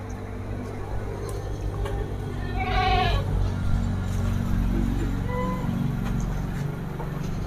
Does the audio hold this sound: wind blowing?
no